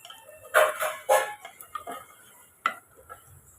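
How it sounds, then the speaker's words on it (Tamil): A spoon scrapes and clinks against a pot of mutton curry in a few irregular strokes, with quiet pauses between them. "இப்போ இதை நம்ம கலந்து விட்டுக்கலாம்."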